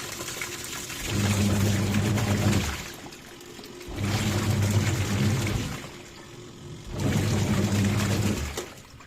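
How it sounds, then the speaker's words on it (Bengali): Water is poured out of a container in three separate gushes of a couple of seconds each, close and fairly loud, with short pauses between and no talking. "এবার ধরুন এখান থেকে জলটা বের করে দিলাম"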